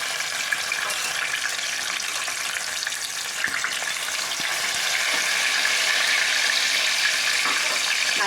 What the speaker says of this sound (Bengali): মাছগুলো ভেজে নিই